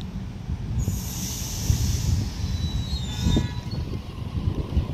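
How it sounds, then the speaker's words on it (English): A suburban train departs the platform at Bankstown station with a steady rumble of rolling wheels, a high squeal and hiss building, loud and close with no talking. "B33 is now departing on platform 1."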